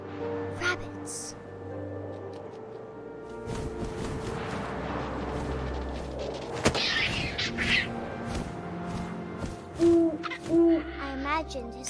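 An owl hoots in the video game What Remains of Edith Finch, with deep hoots near the end over wind, rustling and a low ambient game soundscape, while a narrator's voice runs through much of it.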